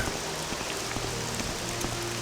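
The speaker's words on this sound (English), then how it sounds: "Back out into the rain." Steady rain falling outdoors in the video game The Elder Scrolls III: Morrowind, a continuous even hiss with soft scattered drops, alone with no voices.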